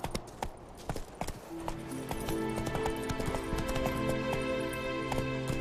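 Horse hooves clip-clop at a steady trot in The Witcher 3, a rhythmic run of close hoofbeats over a continuous game soundscape with a sustained musical drone, heard alone without talk.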